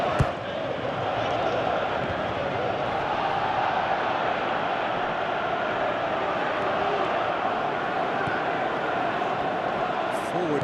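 A stadium crowd in the PES 2017 football game hums with a broad, continuous roar that swells slightly, carrying on steadily as a loud background bed.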